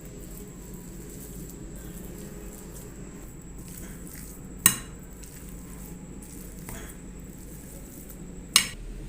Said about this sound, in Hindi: 500 ग्राम मैंने बॉयल किए हुए आलू लिए। आलूओं को अच्छे से मैश कर लेंगे।